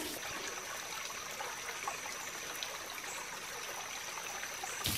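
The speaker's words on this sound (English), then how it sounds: "The water's coming down off the rocks." Water trickling down off rocks near a small waterfall at Bandy Creek Campground in Big South Fork, a soft, continuous splashing hiss with faint drips, steady and fairly quiet.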